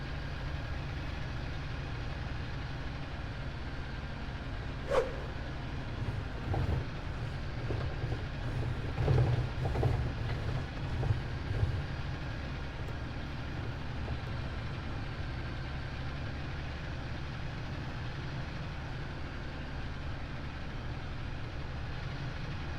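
A tractor engine idles and runs steadily in a farming simulator game, a low continuous rumble with a few brief louder bumps midway, no talk.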